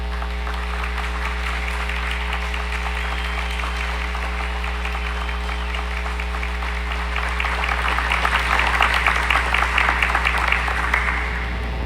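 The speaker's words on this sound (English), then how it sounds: "And applause may be had." Applause from the audience at an Eagle Scout award ceremony, even clapping under a strong steady hum that swells louder and denser toward the end.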